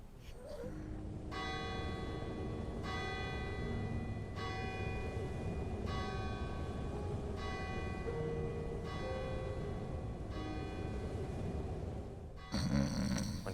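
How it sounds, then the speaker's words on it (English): A church bell strikes the hour in slow, evenly spaced tolls, about six ringing strokes at steady intervals, each with a long humming decay over a low background rumble, followed by a brief clatter at the end. "he heard the chimes of a neighboring church ring the hour of 12"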